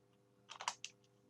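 A short burst of typing on a computer keyboard, about half a dozen quick, quiet key clicks close by in a calm room, with no talking.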